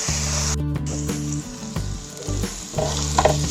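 Tomato puree cooks in a pan with spices, sizzling loudly and continuously while a spoon stirs it in uneven bursts.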